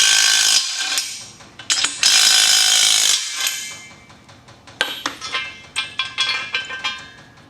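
Metal parts of a VEVOR 1322 lb transmission jack clink and clatter as it is taken apart, with bursts of ratcheting and sharp clanks, then a run of separate metallic taps near the end.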